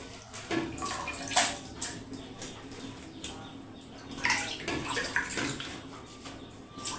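Gongura leaves and other vegetables are washed in a basin of water, with soft splashing and sloshing in irregular bursts close by and faint birdsong behind.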